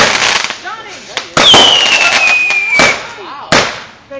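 Fireworks pop and crack repeatedly nearby, with loud sharp bursts and a rising whistle amid excited voices and shouting from people close by.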